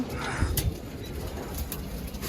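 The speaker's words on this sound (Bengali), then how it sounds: "এদিকে তিনটা চারটা সাতটা পরকাটা নর কবুতর আছে" Male pigeons coo softly nearby, with low, rolling calls over a background of rustling.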